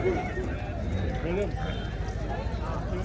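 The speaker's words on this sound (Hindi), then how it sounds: "बड़े सुंदर और खूबसूरत घोड़ा" Horse at a horse show competition at the Ranakpur Jawai Bandh festival, with hoof clip-clops and a whinny under continuous loud announcer commentary.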